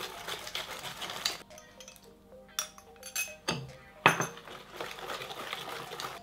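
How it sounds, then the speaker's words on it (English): Whisk clinking against a bowl while sugar, eggs, egg yolks and vanilla are mixed for chocolate chip cookie dough, a series of irregular metallic taps and scrapes, close and fairly loud, with no talking. "all we're gonna do is whisk in our sugar, mixing it until it's roughly combined"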